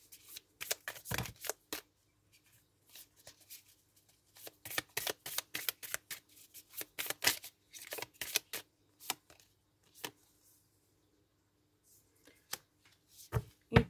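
Tarot cards are shuffled and drawn at close range, with irregular bursts of riffling and crisp card slaps separated by quiet pauses, and no talk.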